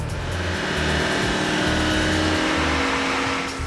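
A car engine strains under load on a dynamometer while being run through the gears, recorded for Forza Motorsport 4, giving a loud, steady, close roar with a pulsing low drone and no voices.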